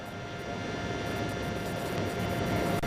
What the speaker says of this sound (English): fighter jets, one would presume